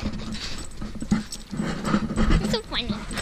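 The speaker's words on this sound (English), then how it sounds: "Our silly dog, Jack." A dog pants and whimpers close by, with shuffling and light thumps; a voice speaks softly underneath.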